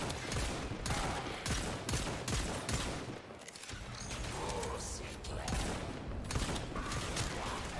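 Dense, continuous gunfire from the Warframe video game fills the whole stretch as rapid repeated shots with mechanical clatter, loud and close, while a voice talks faintly underneath.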